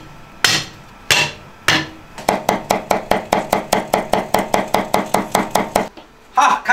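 A knife on a board chops ginger and garlic for mapo tofu: three slow, heavy strikes, then a quick, even run of loud, close chops that stops abruptly.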